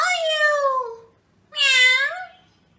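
A person imitates a cat with two drawn-out meows, separated by a short pause, loud and close.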